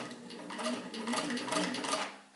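A Singer 15-91 home sewing machine stitching through leather makes a steady mechanical whir with a rapid, even needle rhythm, close and moderately loud, running alone without talk.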